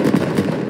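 A volley of musket gunfire from a line of soldiers in a video game, heard as a short dense burst of overlapping crackling shots at close range with no talk.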